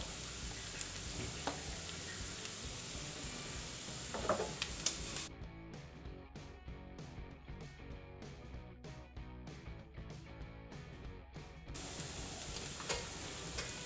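Bacon stir-fried with chili and salt in a pan, a steady close sizzle with quick repeated ticking scrapes of a spatula through the middle stretch, no talk.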